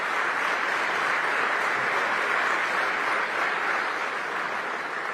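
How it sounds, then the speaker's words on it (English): Audience applause in a hall for the U.S. Deputy Secretary of Homeland Security at the new secretary's first address, steady and dense throughout with no pauses and no speech over it. "Let's give him a round of applause."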